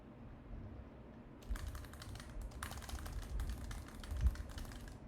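Someone types a message on a computer keyboard, quick clusters of crisp key clicks starting after a quiet moment and continuing in irregular bursts, close and fairly clear.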